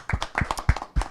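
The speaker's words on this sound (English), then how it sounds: "So I want a round of applause for Courtney, Timon, Danielle, and Rocky." A handful of separate hand claps, about five in just over a second, are heard close and fairly soft as a brief round of applause for session presenters.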